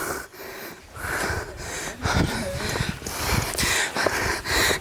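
Heavy, ragged panting from a person climbing up to a hillside cave temple, close breaths and wheezy gasps in an uneven rhythm with faint footsteps and movement.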